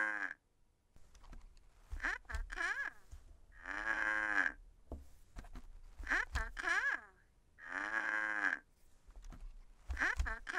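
Cartoon cow in the Fridge Farm game lets out a series of drawn-out, wavering moos one after another, loud and close, with short gaps between them.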